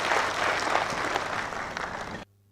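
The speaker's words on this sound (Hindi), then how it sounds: "एक बार जोरदार तालियां हमारे मुख्य अतिथि के लिए" Audience applause for the chief guest at the Kamuna Srijan 2015 event, a steady burst of clapping from a crowd that cuts off abruptly near the end.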